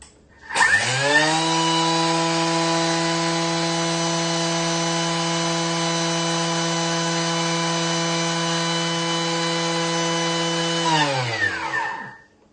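A Thermomix blade grinds sugar at speed 10, a loud steady high-pitched whirring motor drone with a sharp start, about eleven seconds of constant tone, then a quick spin-down, with no talking.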